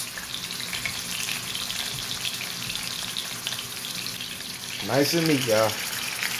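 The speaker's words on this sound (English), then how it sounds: "But first, I'm gonna fry this first." Meat fries in a pan for a pot roast, giving a steady, close sizzle and hiss that runs throughout. A voice speaks briefly near the end.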